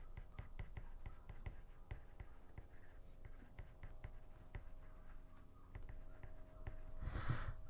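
Pencil scratching on paper while a graph is sketched, a steady run of short, close strokes and ticks under low room noise.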